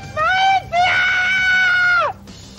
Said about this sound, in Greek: Άδικα φωνάζεις.